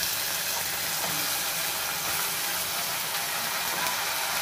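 Okra, tomato and other vegetables fry in hot oil in a pan for rasam, giving a loud, steady hiss and sizzle that stays constant and close throughout.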